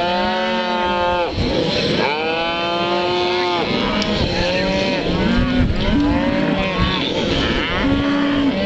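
Many cattle low and moo loudly while crowded together during ranch branding, overlapping calls rising and falling close by, with a steady engine-like hum beneath them.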